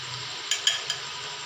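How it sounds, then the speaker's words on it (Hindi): Yogurt stirred into meat frying in a pan gives a soft, steady sizzle with a few brief clinks and scrapes of a spoon against the pot, close by and with no talking. "अब हम इसमें दही डाल रहे हैं।"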